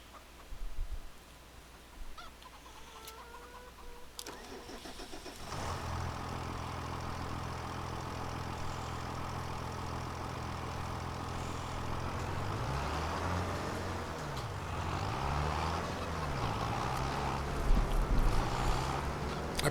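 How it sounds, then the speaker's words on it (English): A tractor engine in the video game Farming Simulator 25 starts up and settles into a continuous, steady diesel drone that rises slightly near the end. It plays on its own, with no voices. "Come jump in my favorite tractor."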